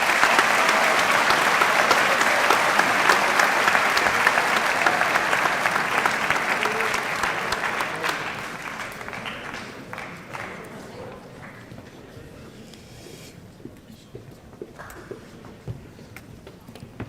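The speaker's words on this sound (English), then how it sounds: "Give these guys a round of applause" A high school football banquet crowd applauds players in a loud, dense wash that gradually thins after several seconds into scattered individual claps, with a few voices talking underneath.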